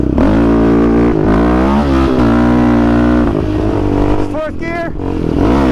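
A quad ATV, either a Kawasaki KFX450R or a Yamaha Raptor 700, is revved hard while riding, with loud steady engine drone and rising and falling pitch sweeps as it shifts through the gears, close to the microphone.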